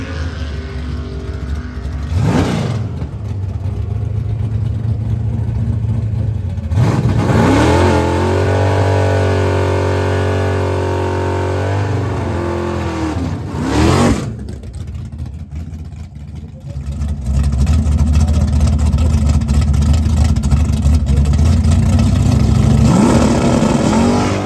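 A drag racing car on big bracket-racing slicks launching down the strip, engine revving and climbing through gears in long rising sweeps, heard from the sidelines with quieter gaps between passes.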